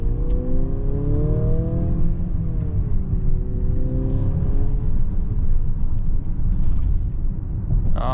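A 2024 Mercedes-Benz GLC 300 4MATIC SUV with the 9G-tronic transmission accelerates from inside the cabin, the engine note climbing and shifting through gears over steady road rumble at a constant, fairly loud level.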